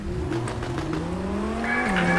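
A McLaren in a video game, its engine droning with a steadily climbing pitch before a sharp tire squeal cuts in near the end, close and continuous with no talking.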